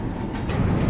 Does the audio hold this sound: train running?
yes